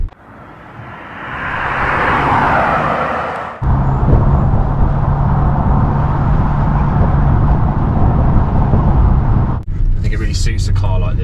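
A 2023 Range Rover P530 V8 L460 Vogue with its exhaust valve shut gives a steady, muted low drone heard up close, subdued and near stock in tone.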